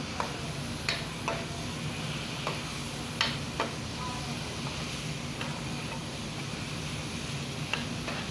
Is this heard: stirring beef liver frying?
yes